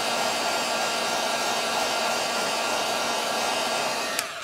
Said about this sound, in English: I'm gonna just hit it with some heat just to make sure it's completely dry before I add on this shadow.